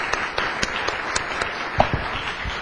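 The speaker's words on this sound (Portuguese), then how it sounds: "Vamos dar uma salvada de palmas para ele" Short burst of audience applause at a lecture, steady scattered clapping at moderate level with a few sharper individual claps standing out.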